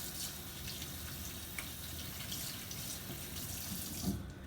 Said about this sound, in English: now you're gonna go wash your hands because it's gonna be gross